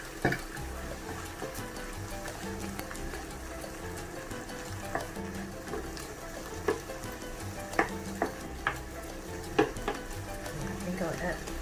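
Tomato puree hitting a hot pan for egg shakshuka, a steady close sizzle and fry with scattered spoon taps and scrapes as it is stirred in, moderately loud throughout.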